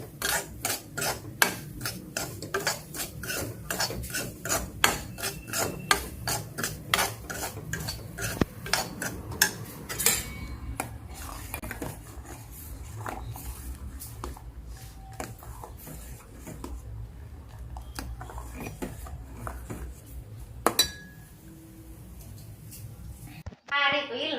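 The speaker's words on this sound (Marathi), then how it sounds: "सगळे व्हेजिटेबल्स कटिंग वगैरे चालू आहे" Vegetables are cut in a home kitchen, with a quick run of rhythmic knife taps on a board giving way to scattered clinks of utensils and dishes, close by, while people talk in the background.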